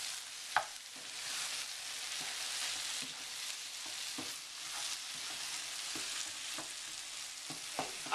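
Eggplant and onions sizzle steadily in a frying pan for an eggplant dip, with a continuous hiss of frying broken by occasional scrapes and taps of a utensil stirring and chopping the vegetables.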